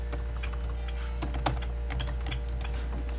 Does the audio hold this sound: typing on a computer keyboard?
yes